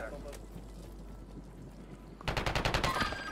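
Gunfire in Call of Duty Warzone Rebirth during a quads match: a quiet stretch of ambience, then a rapid burst of loud, closely spaced shots near the end.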